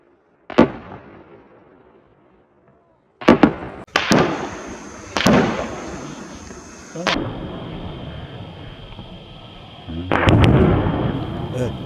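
Loud, sharp gunshots ring out during a wild boar hunt, several spaced blasts each followed by a long echoing decay across open country, with a voice heard faintly between shots.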